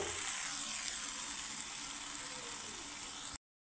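Four paneer paturi parcels fry in a pan with a close, steady, even sizzle that continues unbroken, then cuts off abruptly.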